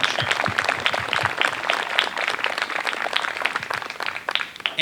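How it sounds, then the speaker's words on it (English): A crowd applauding steadily for several seconds, dense overlapping claps at a lively, even level with no speech. "we'll just give her a round of applause."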